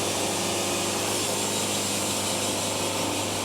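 Sawmill blade cutting through a log, a loud, constant, dense roar of sawing that holds steady from start to finish with no pauses.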